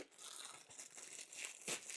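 Hikawa phone grip being pulled out of a plastic bag, a steady close crinkling and rustling of thin plastic with a few sharper crackles, fairly quiet and with no speech.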